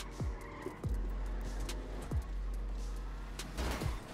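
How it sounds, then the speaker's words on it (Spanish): Cars in a GTA 5 race, engines roaring with tire squeals and skids, several sharp sweeping bursts and a head-on collision among steady motor noise. "Mira, un carro se me metió de frente,"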